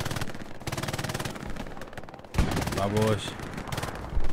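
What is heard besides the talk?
gunfire in a shooter video game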